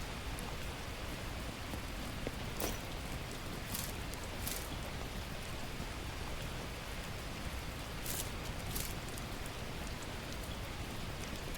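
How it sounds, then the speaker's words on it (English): Steady, dense rain in the survival game The Last Plague: Blight, an even hiss of drops on surfaces running throughout, with a few brief sharper splashes and no voices. "It's raining."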